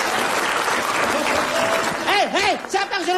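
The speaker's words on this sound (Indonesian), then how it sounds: "Nggak usah pakai tepuk tangan kalau buat dia" A studio audience on an Indonesian comedy show breaks into loud, dense applause that runs the whole time, with a voice talking over the clapping near the end.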